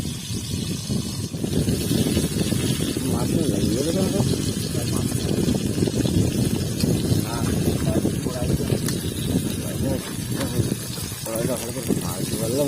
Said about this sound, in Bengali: মাছ ভাজতে ভাজতে এটা কড়াইতে ফেটে গেল।